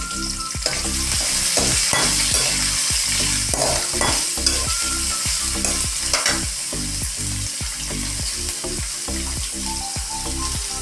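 Onions browning in a hot pan for a dhaba-style paneer dish, with a continuous loud sizzle and regular scraping strokes of a spatula stirring them close up, no voices.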